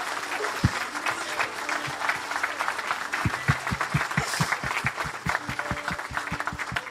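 A congregation applauds continuously at a testimony gathering, a dense wash of clapping with steadier rhythmic claps and low thumps standing out near the end, voices faintly mixed in.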